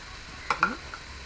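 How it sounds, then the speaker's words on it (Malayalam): A spoon scrapes and clicks against a pan while turmeric, coriander and chili powders, including Kashmiri chili, are stirred so they don't burn; a few quiet, brief taps stand out over faint background hiss. "കരിയാതെ ഇളക്കി കൊടുക്കണം."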